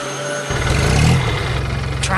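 A yellow tractor cutting trees on a farm has its engine kick in after about half a second, then settle into a loud, steady chugging rumble with a rhythmic low pulse.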